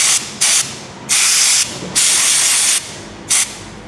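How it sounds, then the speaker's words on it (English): Several sharp hissing bursts from a can of brake cleaner sprayed into bolts while replacing a power steering pump, short and longer sprays separated by brief pauses, loud and close. "spray them with some brake clean to clean the inside of these bolts up"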